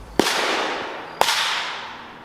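A separate ammunition primer pops during a test meant to make a round blow apart: two sharp cracks about a second apart, each followed by a long, fading ringing tail, with nothing else heard.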